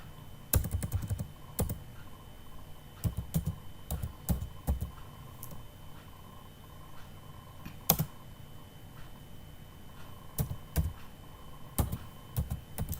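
Typing on a computer keyboard, with irregular bursts of sharp key clicks separated by short pauses, close and fairly quiet, no voices.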